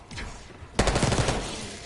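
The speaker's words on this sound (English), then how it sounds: "Hearing gunfire? Yeah, sounds like it's coming from one of the lower floors." A sudden burst of rapid gunfire erupts after a brief quiet moment in Call of Duty: Black Ops 6, loud and sustained, with a game-like punchy quality.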